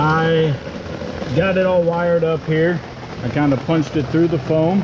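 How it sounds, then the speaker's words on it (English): Steady patter of rain drumming on tent fabric, running under someone talking close by. "you'll have to pardon the rain noise on the tent here"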